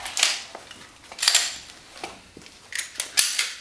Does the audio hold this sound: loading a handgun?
yes